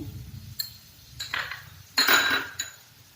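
A utensil clinks sharply against a pan while food is sautéed with salt, several distinct metallic knocks spaced irregularly over a quiet background, close and fairly loud, with no talking.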